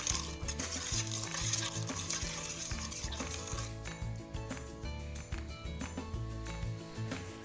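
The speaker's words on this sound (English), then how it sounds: "Now we're going to stir the marinade to ensure that all the ingredients are well combined" Chicken marinade for grilled leg quarters being stirred in a bowl, a steady scraping and swishing close up that runs continuously with faint clinks of utensil against the container.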